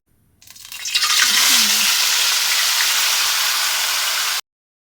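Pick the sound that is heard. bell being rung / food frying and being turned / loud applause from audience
food frying and being turned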